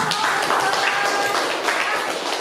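Applause from a small group in a classroom, steady dense clapping sustained for a couple of seconds at moderate level, with faint voices mixed in.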